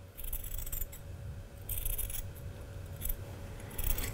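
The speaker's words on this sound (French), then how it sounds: "Si vous prenez des grands ciseaux comme moi, faites bien attention à couper qu'au niveau du rentré de couture." Large fabric scissors snipping through a sewing seam allowance, a series of crisp, close cutting strokes in short bursts with pauses between, no speech heard.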